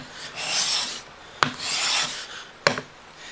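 A hand plane with a radiused blade shaves thin, feathering wood shavings, with three raspy swishing strokes, each ending in a sharp click or knock, close up and alone.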